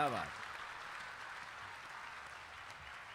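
A dayro audience in Surat breaks into sustained, dense applause right after a brief voice at the start, the clapping holding steady and fairly distant to the end.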